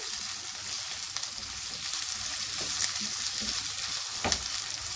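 Fried potatoes with cumin and crushed red chilli sizzle steadily in a pan of oil, a continuous close hiss broken by occasional stirring scrapes, with no voices.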